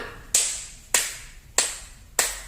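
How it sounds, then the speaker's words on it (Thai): Four crisp hand claps come at a steady, even pace in a quiet indoor space as part of a rhythm-and-movement command game, each one close and bright with a brief fading ring. "ปรบมือสี่ครั้ง"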